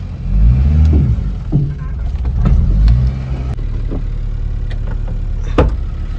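A car is driven straight inside, its engine a steady low rumble throughout with a few louder swells, while people talk close by over it.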